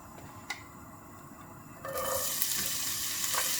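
Chopped onion dropped into hot oil in a pan, a quiet background that jumps into a loud, continuous sizzle partway through, with a few small clinks of stirring.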